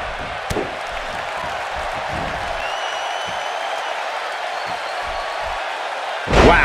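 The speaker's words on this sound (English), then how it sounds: "just listen to this Tokyo crowd." Large Tokyo arena crowd in WWE 2K18 roars steadily throughout a cage match, a continuous loud wash of cheering with a sharp impact near the start and a louder swell at the end.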